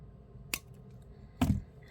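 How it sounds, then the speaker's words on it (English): Wire cutters snip jewelry wire twice while stringing purple glass pearls, a faint short click followed a second later by a louder crisp snip, close up and without talking. "And then we're gonna snip that off with our cutters."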